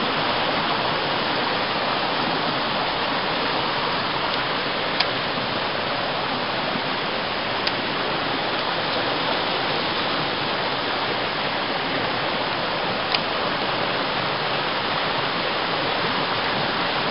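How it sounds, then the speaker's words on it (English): Rushing water of a mountain stream on a solo hike up Tripyramid, a loud continuous close roar of flowing water, steady throughout with a few faint clicks. "I hope you can hear me over the water here"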